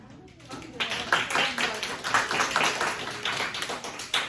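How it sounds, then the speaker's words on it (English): A classroom gives a student a short round of applause, with steady clapping from several people lasting a few seconds, moderately close and fairly loud. "Round of applause for Bailey."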